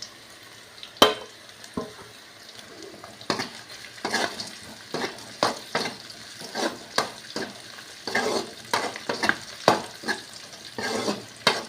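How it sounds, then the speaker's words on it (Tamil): Dried red chillies frying in oil with softened onions for a chicken pallipalayam, a spoon stirring and scraping the pan in repeated bursts over a steady sizzle, close and clear with no talking. "இப்போ நம்ம வரமிளகாய் போட்டுக்கலாம்."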